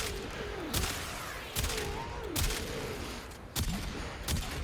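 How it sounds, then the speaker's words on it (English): A Kuva Quartakk rifle in the video game Warframe fires sharp four-round bursts, five clipped bursts spaced roughly a second apart over a low ambient hum, with faint whooshing effects between them. "But yeah, that burst fire is lethal. Because it's a 4-round burst"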